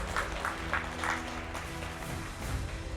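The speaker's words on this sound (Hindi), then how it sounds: "जोरदार तालियां आप सबको।" Audience applause at a public talk, a continuous patter of hand claps with periodic swells, fairly loud over a low background hum.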